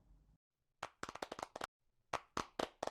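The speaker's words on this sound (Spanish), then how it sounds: "Un aplauso para Alejandra." Sparse hand clapping for a speaker at a university psychology conference, a few quick separate claps after a short pause, then a second small burst, close and fairly quiet with no talk.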